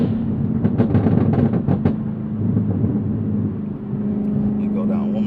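Camaro engine downshifting and decelerating, a steady low exhaust drone with some uneven crackle through the first two seconds, fairly loud and close, with a voice talking over it.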